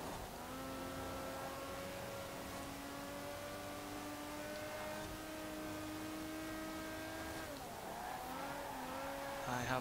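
Jaguar XK120E racing car engine in Forza Horizon 4 during a fifties race, a sustained revving drone with steady harmonic pitch that dips and recovers as gears change, fairly quiet and continuous.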